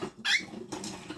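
A pet bird gives one short, high squeak, close and fairly loud, followed by soft rustling.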